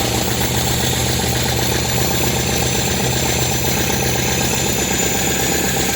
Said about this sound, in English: My idle's a little low, so I'm just gonna go a quarter of a turn.